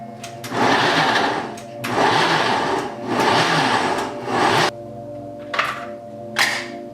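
A blender motor whirs loudly in several bursts of a second or so while blending cashews, pausing between pulses, followed by a couple of short final spurts.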